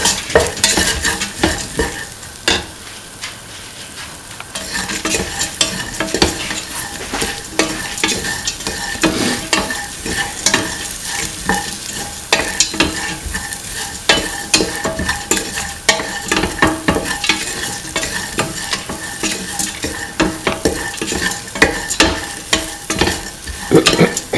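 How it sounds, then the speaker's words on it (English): Curried split chickpea rice with ivy gourd and coconut milk is stirred in a pan after salt is added, loud close scraping and clattering strokes over a steady sizzle, repeated throughout. "put in salt to taste, mix,"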